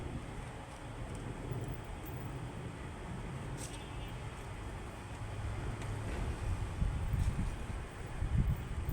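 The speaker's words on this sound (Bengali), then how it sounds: "দেখো দেখো প্রচণ্ড হাওয়া চলছে" Strong storm wind blows steadily at night as part of a thunderstorm with rain, a broad roaring rush that builds and gusts louder toward the end.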